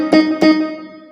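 Keyboard set to a classic guitar voice plays two plucked notes in quick succession, each decaying into a ringing tail, clear and close.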